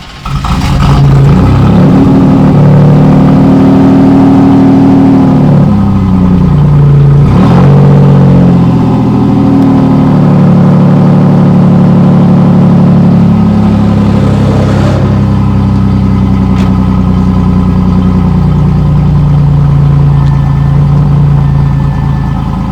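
A 1987 Pontiac Firebird on its factory exhaust idles with a deep, steady rumble, then revs up several times, the pitch rising and falling. The engine stays loud and close the whole time.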